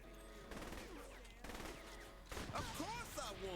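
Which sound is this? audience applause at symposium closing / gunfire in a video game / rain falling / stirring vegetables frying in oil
gunfire in a video game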